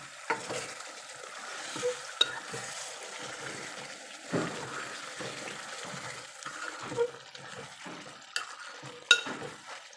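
A spoon stirs a fenugreek chicken curry in a pan, with soft scraping strokes and gentle sizzling as the oil rises, plus a few light clinks of utensil on metal, close and steady with no talk.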